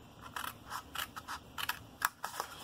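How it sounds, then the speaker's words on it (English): Paper snips cutting cardstock along a score line, producing a quick run of quiet crisp snips in an uneven rhythm, close up with no talk. "I'm going to take my paper snips"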